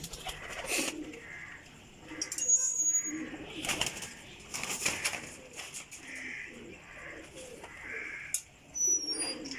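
Pigeons kept as Parwazi racing birds coo and flap their wings around a rooftop loft, with soft cooing and bursts of fluttering wings at moderate distance, joined by occasional faint chirps.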